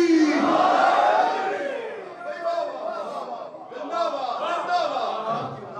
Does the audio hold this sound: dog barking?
no